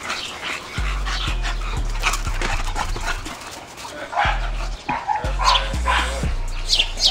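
A dog in a yard barks repeatedly in deep, close bursts, with panting and whimpers between barks, while people chatter in the background.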